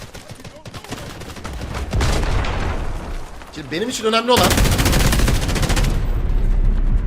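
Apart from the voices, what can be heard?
gunfire in a video game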